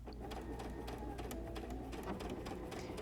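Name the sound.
sewing machine stitching fabric for reverse appliqué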